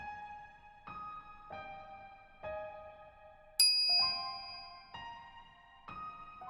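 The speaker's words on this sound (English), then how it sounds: "I'm greeted by the chiming of a microwave oven." A microwave oven in the Steins;Gate game chimes in a series of clear, ringing dings spaced under a second apart, with one brighter, sharper ding partway through, heard alone and at moderate volume.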